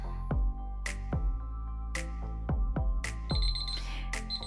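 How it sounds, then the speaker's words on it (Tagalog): A Miniso LCD alarm clock rings its alarm up close, a loud repeating melody of bright, decaying chime-like tones. "So, ganyan kalakas yung alarm niya."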